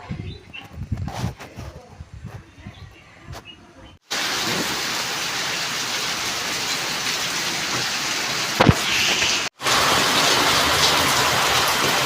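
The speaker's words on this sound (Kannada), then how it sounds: "ಮಳೆ ನೋಡ್ರಿ ಹೆಂಗೆ ಬೀಳತೈತಿ ಸ್ಪೀಡ" Heavy rain pours down fast outdoors, a loud, steady hiss of drops that takes over after a quieter opening, with a couple of brief dropouts and no talking.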